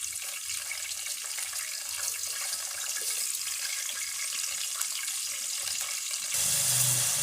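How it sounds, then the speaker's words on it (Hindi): Water runs steadily while it is added to frying dal mash, a soft continuous hiss that grows louder and splashier in the final second. No one speaks. "थोड़ा सा पानी ऐड कर दिए।"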